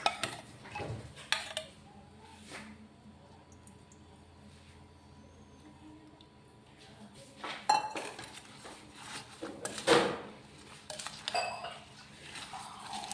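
A spoon clinks against a bowl while mustard seeds and asafoetida are mixed into cooled mustard oil for green chili pickle. Quiet scattered taps give way to a few louder clusters of clinks and scrapes.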